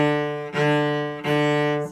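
Bowed cello notes with accented attacks, three sustained tones each starting with a heavier push of the bow, played close and alone.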